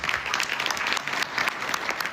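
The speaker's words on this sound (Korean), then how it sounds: "마크롱 프랑스 대통령 등 참석자들이 흐뭇한 표정으로 박수를 보냅니다" Guests at a formal dinner in the Palace of Versailles applaud, a steady, dense clapping that continues evenly throughout.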